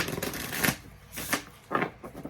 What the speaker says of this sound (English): Let me get one more shuffle.